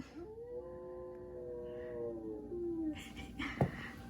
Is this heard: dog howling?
yes